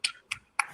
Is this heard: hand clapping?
yes